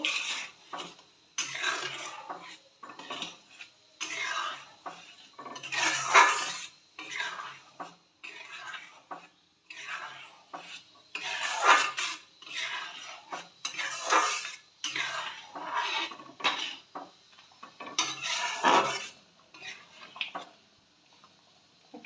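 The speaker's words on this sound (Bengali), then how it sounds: "এবার পরিমাণ মতন লবণ দিয়ে দিচ্ছি আর একটু তেল দিয়ে দিচ্ছি ভালো করে মিশিয়ে নেব" Chana dal with salt and oil is stirred in a pot, a spoon scraping and clinking against the metal in repeated strokes with short pauses, close and clear, with no speech.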